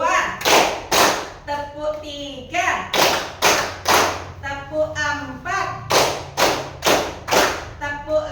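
A primary school class of fifth graders performs a numbered clapping routine, loud group claps landing in quick clusters, with children's voices chanting between the bursts.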